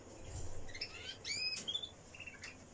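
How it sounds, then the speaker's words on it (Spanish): Small birds from an aviary, now housed in cages, give faint high chirps and short tweets in scattered clusters over a soft background hiss. "ya tenemos los pajaritos de la voladera puestos en jaulas"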